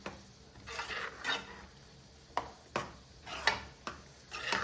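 A spatula stirs and scrapes spinach (palak) paste frying in a pan, making intermittent clinks and scrapes in an uneven rhythm at moderate volume, with no talking.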